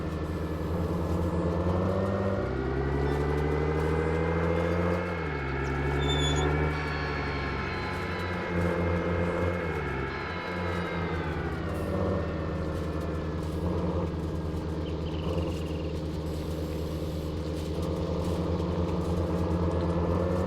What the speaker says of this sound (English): This good old John Deere is a little older tractor, but she works well.